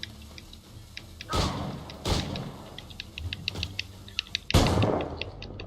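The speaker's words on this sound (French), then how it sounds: "Throwing grenade." A grenade goes off in Assassin's Creed IV Black Flag, one of several sharp, booming blasts amid game battle noise and clatter, with the loudest burst landing near the end.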